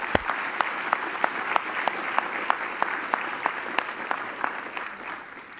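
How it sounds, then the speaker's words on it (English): An audience at a business ethics awards ceremony applauds the award winners, a steady wash of many hands clapping at even volume throughout, with a few sharper individual claps standing out near the front. "Just one more round of applause for our winners here."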